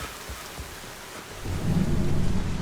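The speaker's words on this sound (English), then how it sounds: "여기는 비 오는 동네네?" Rain and thunder in the video game Mass Effect 2: a steady wash of falling rain under a low rumble of thunder that swells louder in the second half.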